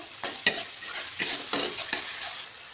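Ginger and garlic paste hitting hot oil with fried onions while making dhaba-style palak paneer, a sharp sizzle broken by several quick scraping stirs of a spatula, close and loud.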